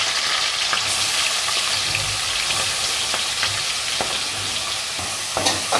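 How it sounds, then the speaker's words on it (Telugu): Onion paste, peppercorns, cumin and green chillies sizzle loudly in hot oil for an egg curry, a dense constant crackle up close with occasional stirring scrapes. "మిరియాలు కొన్ని పచ్చిమిర్చి పచ్చిమిర్చి వేసుకొని మనం చేసుకున్న ఉల్లిపాయ పేస్ట్ కూడా వేసుకుందాం"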